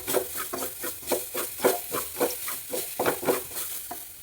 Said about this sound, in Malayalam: കുറച്ച് തേങ്ങ ഞാൻ തിരുമ്മി വെച്ചിരുന്ന അത് അടപ്പത്തിട്ടിട്ടുണ്ട്